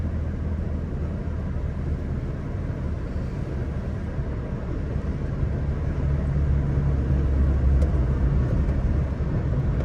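A 1972 BMW Neue Klasse 2000 drives along, its engine a steady low rumble under broad road and wind noise, swelling slightly toward the end, with no talk.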